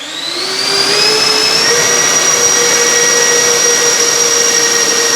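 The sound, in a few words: FMS A-10 Thunderbolt II twin 70mm RC jet fans throttling up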